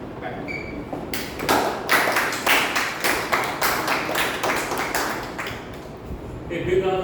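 A few people clap for the speakers at an online Toastmasters club meeting, sharp individual claps in a loose rhythm for several seconds, close and moderately loud, with brief tones and thumps at the start and end.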